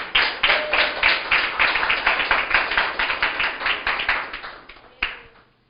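A church congregation clapping during a sermon, a run of rhythmic, even hand claps that holds steady for several seconds, then a final sharp clap before fading out.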